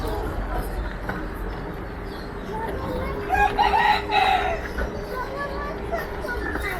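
A rooster crows once at a middle distance over a steady outdoor background at a zoo, with faint clucking and voices around.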